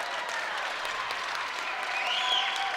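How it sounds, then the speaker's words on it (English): Snowflake fans and the team bench applaud after a player's free throws at an Arizona high school basketball playoff game, a steady, full crowd clapping that swells slightly near the end. "The Snowflake fans give him a round of applause, as does the bench."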